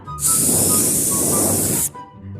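A cartoon gas spray lets out one loud, steady hiss lasting nearly two seconds, starting and stopping abruptly, alone with no voices.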